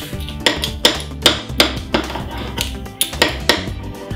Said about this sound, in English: This is a slicer, and we cut it like this